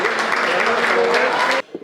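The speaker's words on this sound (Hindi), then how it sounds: "एक बार जोरदार तालियां बजाए" Audience at an Indian poetry recital bursts into brief, loud applause, dense clapping from many hands that cuts off abruptly, followed by a faint sound.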